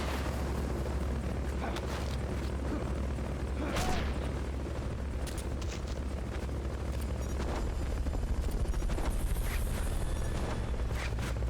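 Helicopter rotors in Metal Gear Solid: Peace Walker, a continuous dense whirring roar that runs throughout with occasional sharp bangs layered over it.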